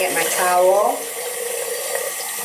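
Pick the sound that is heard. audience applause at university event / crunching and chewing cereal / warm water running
warm water running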